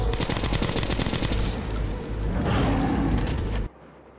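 Rapid automatic gunfire in the video game Metro 2033 Redux, a loud, dense volley of shots that runs for several seconds, then cuts off abruptly to quiet background.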